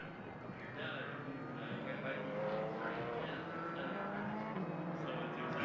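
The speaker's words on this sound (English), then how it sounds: "And here we go out onto the track. The cars make their way here." GT race cars pull onto the Indianapolis circuit during qualifying for an 8-hour endurance race, their engines a continuous moderate drone and whine beneath a commentator speaking over them throughout.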